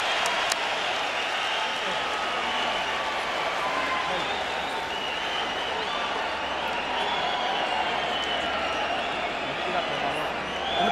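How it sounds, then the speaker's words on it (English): A boxing arena crowd at the Juan Manuel Marquez vs Marco Antonio Barrera fight in round four, roaring and applauding in a steady, sustained wash while a commentator talks over it. "And the crowd rises to appreciate the intensity of this war."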